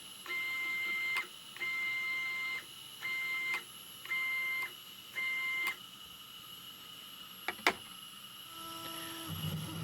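An MPCNC CNC machine runs a pretend air cut. Its stepper motors whine in five evenly spaced bursts, each about a second long, followed by a couple of short sharp clicks against a quiet background hum.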